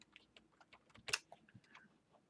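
A single crisp computer mouse click stands out amid a scatter of light, faint keyboard and desk taps, close and quiet, with no talking.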